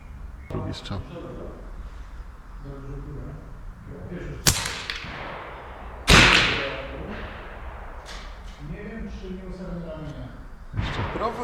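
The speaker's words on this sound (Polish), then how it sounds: "Drugi strzał." Two sharp shots from a Reximex Throne Gen. 2 air rifle crack a couple of seconds apart, with people talking quietly before, between and after them.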